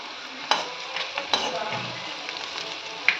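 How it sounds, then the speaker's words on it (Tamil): Ground coriander, turmeric and chili powder sauté in hot oil in a pan for a fenugreek gravy: a continuous sizzle with a few distinct scraping stir strokes, close and fairly loud. "இது எண்ணெயில் வதக்கிடுங்க"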